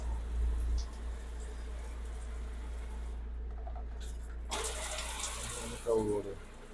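Water runs steadily from the shower in a 2025 Viking 25QBH camper, a soft continuous hiss with a brief pause partway through before it resumes more brightly, with faint speech nearby.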